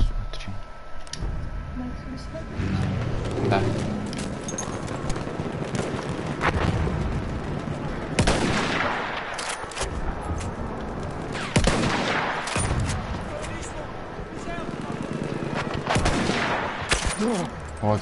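Rapid bursts of Battlefield 1 multiplayer gunfire crack repeatedly over steady background noise, loud and close, scattered through the clip in quick clusters.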